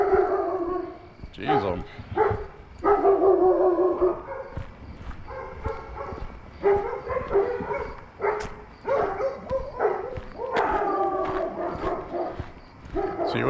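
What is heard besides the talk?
dogs barking at night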